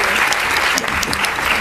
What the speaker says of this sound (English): I want to invite everybody to give a big round of applause to our panelists